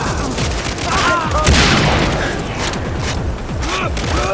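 Gunfire in the video game Far Cry 3: rapid bursts of shots and booms crackle one after another over a busy game soundscape, loud and close.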